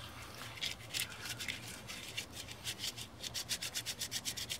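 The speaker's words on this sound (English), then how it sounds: "We just want to crumble this leaf up." A leaf is crumbled up by hand, giving close, dry rubbing and crinkling strokes that start irregular and settle into a quick, even rhythm.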